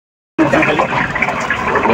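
Water rushes into a newly installed 80-gallon water heater, starting abruptly after a moment of silence and continuing as a loud, steady, close gushing flow.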